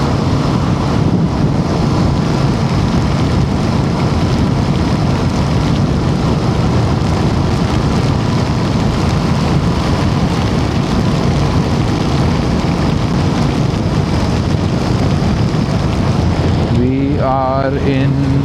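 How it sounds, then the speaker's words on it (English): Heavy rain and wind roar steadily over a motorcycle riding at night along the coastal Karnataka road, a dense continuous wash of noise close to the microphone, with a brief tonal chirp near the end. "So again it's raining a lot"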